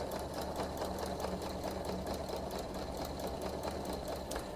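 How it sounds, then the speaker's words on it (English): A sewing machine runs steadily through a mesh-front pouch seam, sewing a few stitches forward and a back stitch; its dense, fast motor whir and needle chatter stay continuous and close throughout, with no talk. "start sewing a few stitches forward and a back stitch before I continue sewing the balance of this"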